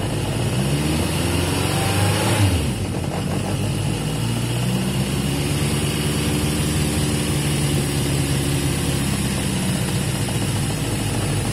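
A Yamaha XJ550 motorcycle engine with an intermittent fault idles steadily right after its idle was adjusted, giving a continuous, even running drone close by with no talking.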